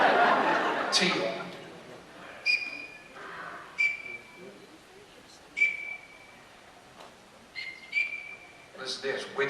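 Duck call blown to imitate a teal, giving short high whistling peeps in scattered bursts, close but fairly quiet, with a person talking in the clip.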